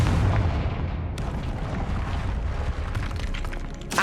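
A Confringo fire-blast spell going off in the Hogwarts Legacy video game, a dense, loud burst of explosive rumble and crackle that fills the whole moment with no voice over it.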